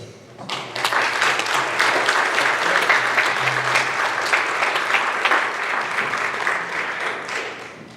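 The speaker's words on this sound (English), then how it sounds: "please join me with a round of applause in welcoming Corey Simon to the podium" An audience at a 2025 high school distinguished alumni ceremony applauds an award recipient on his way to the podium, full crowd clapping that swells up quickly after a quiet start and then holds steady.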